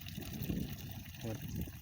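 Canal water running steadily as it is released to irrigate cotton fields in Sindh, a close, continuous rushing gush with a faint voice briefly audible.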